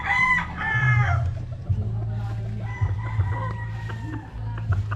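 A young rooster (stag) crows loudly close by, several times, over a continuous low rumble of farmyard background, with other crows and clucks mixed in.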